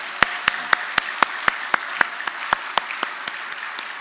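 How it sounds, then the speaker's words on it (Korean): Church congregation clapping together in a large hall, a steady rhythmic beat of about four claps per second, loud and unified with no talk. "박수 한번 해봐요."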